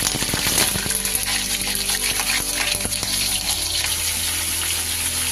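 Chicken pieces sizzling in hot oil in a karahi for a dhaba-style karahi chicken: a dense, continuous hiss and crackle at moderate volume, with no talking.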